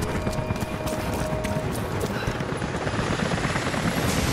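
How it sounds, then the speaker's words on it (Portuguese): Helicopters approaching in the video game Rise of the Tomb Raider, a steady, loud rotor drone filling the scene throughout with a dense low rumble and no voices. "Helicópteros indo em sua direção."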